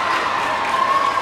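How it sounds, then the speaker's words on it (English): Indoor volleyball crowd at a regional tournament game, a dense steady roar of cheering and shouting voices that holds loud and unbroken throughout. "Listen to this crowd, though, ladies and gentlemen."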